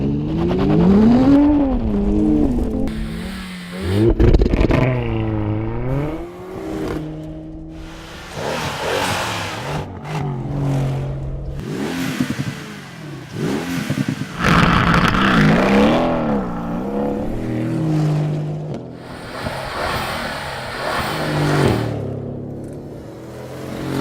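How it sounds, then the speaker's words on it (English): Mercedes-AMG engines from six cars at a drag race, loud revving with rising and falling pitch sweeps, repeated bursts of acceleration and passes, close and alone. "Time to compare the different AMG engine sounds."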